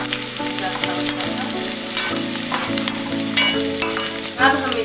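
Chopped carrots stir-fried in a pan for veg chowmein, a steady loud sizzle with tonal background music layered over it and occasional scraping stirs, no talking.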